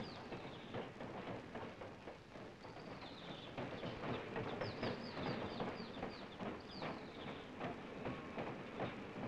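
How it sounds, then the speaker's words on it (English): A steam-era railroad train engine pulls in with a rhythmic clickety-clack of wheels on rails, steady and somewhat distant, with high squeals and whistle-like tones over the rumble. "Then the huge engine pulls in."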